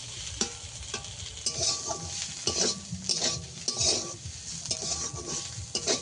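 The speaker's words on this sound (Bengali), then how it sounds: "এই যে 2 মিনিট ভালো করে নাড়াচাড়া করে নিয়েছি" Drumstick leaves (sajne shak) are stirred in a hot pan: repeated metal-utensil scrapes and clinks in an uneven rhythm over a light, close sizzle.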